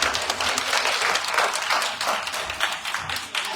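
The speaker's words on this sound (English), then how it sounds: "just one more round of applause for our panelists." Loud, dense applause from the audience at a healthcare colloquium, with crowded clapping and a few sharper individual claps standing out, sustained for the whole stretch.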